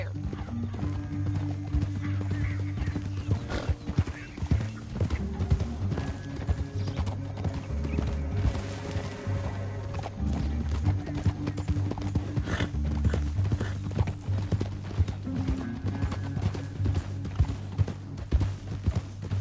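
Horses galloping in the Western video game Red Dead Redemption 2, steady rapid hoofbeats with a neigh and clinking tack, mixed with a low rumbling score and brief talk.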